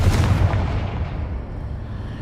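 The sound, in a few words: Confringo spell explosion, from the video game Hogwarts Legacy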